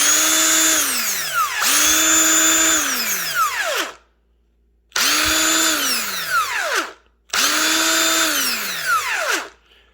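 Brushed-motor power drill running in three long bursts, each winding up to a high whine and then spinning down with a falling pitch, close and loud with brief silences between runs.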